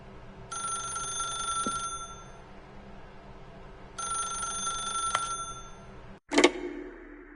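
Old-fashioned telephone in The Stanley Parable rings twice in long trilling bursts, loud and near, then a sharp clack as the receiver is lifted.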